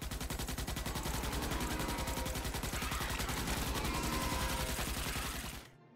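Sustained automatic fire from a Morita 7.62mm rifle in Starship Troopers Extermination, a rapid, even stream of loud heavy shots lasting several seconds before cutting off abruptly.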